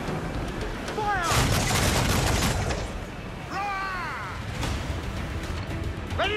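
Ship cannons fire in a naval battle in Assassin's Creed IV Black Flag, a sustained loud barrage of booms and crashes with shouted voices and music over it.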